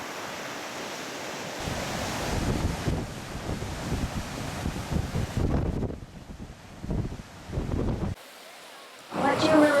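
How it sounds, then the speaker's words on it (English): Ocean surf surges and crashes in rough, uneven bursts, heavily buffeted by wind noise on the microphone, with brief dropouts between loud rushes. "Look at the beauty of the scene, power of the ocean."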